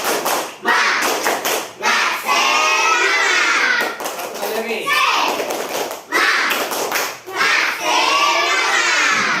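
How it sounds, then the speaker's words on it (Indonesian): An elementary classroom breaks into a rhythmic spirit clap, tepuk semangat, with crisp sharp bursts of many hands striking together in quick patterned groups, separated by a teacher's spoken cues and children's voices. "Dua kali tepuk semangat"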